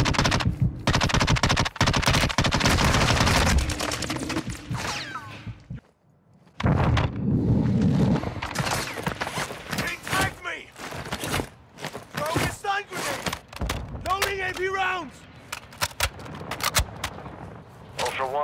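Dense bursts of automatic gunfire in Call of Duty DMZ, loud rapid volleys with a brief lull midway, then more shots mixed with in-game sounds, and voices talking over the firing.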